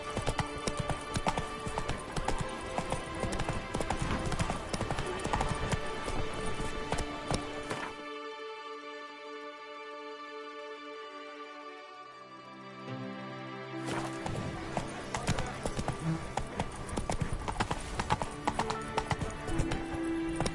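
Roach the horse gallops in The Witcher 3 with rhythmic clip-clop hoofbeats, which pause briefly midway under a musical passage and then resume at a steady, close pace.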